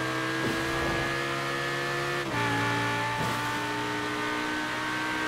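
Car engine in Forza Horizon 4 after a downshift before heading onto the autobahn: a steady, loud droning engine note with clear harmonic whine, its pitch stepping down twice with brief shift dips, no talk.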